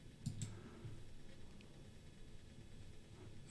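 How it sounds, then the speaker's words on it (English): A computer mouse clicks a couple of times while editing a photo, quick light ticks close by in a quiet room. "So I'll click."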